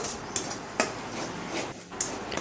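A few light spoon clinks and scrapes against a pan as four spoons of curd are stirred into a soybean curry, quiet and scattered with no talking.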